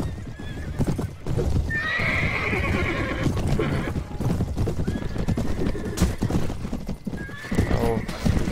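Horse hooves clip-clopping at a gallop with loud repeated neighs and whinnies in Mount and Blade: A Clash of Kings, steady and close throughout with battle noise underneath.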